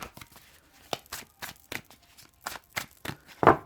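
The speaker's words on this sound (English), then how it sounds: "just going to shuffle them quickly" Tarot cards are shuffled quickly by hand, a series of short soft slaps and swishes in an uneven rhythm, ending with a sharper louder one.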